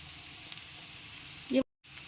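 Egg chow mein with vegetables and powdered spice being stirred in a hot pan, a steady soft sizzle with light scraping, ending in a brief louder clatter before a moment of silence.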